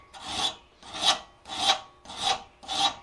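A file works across the face of a steel chasing tool for a convex butcher in five even rasping strokes, each swelling and fading in a steady rhythm, close and alone.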